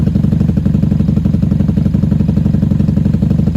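A 1994 Honda Magna VF750C motorcycle engine idles close by, a loud, steady, even low throb with a rapid pulsing rhythm and no change in pace throughout.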